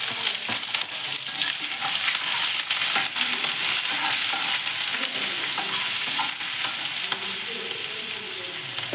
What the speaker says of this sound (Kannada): ಸಾಸಿವೆ ಹಾಕ್ಕೋತಾ ಇದ್ದೀನಿ. ಹಾಗೆ ಕರಿಬೇವು ಸೊಪ್ಪು ಮತ್ತು ಈರುಳ್ಳಿ ಮತ್ತು ಹಸಿಮೆಣಸಿನಕಾಯಿ